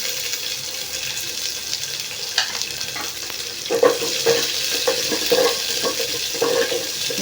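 Onions and green chillies sauté in a pan for a spinach dish, a steady close sizzle with scattered scraping stirs and clinks, no voices.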